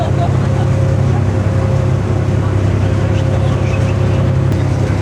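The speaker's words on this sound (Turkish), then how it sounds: "bu evlerdekiler traktör sesi duyuyor habire" A tractor engine drones steadily at a scenic rural spot in Divčibare, Serbia, a constant loud low rumble filling the whole stretch, with faint voices underneath.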